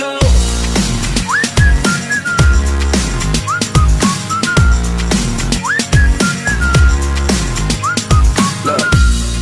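A person whistles a looping melody from Five Nights at Freddy's over a loud, rhythmic guitar backing, with the clear whistled phrase repeating several times.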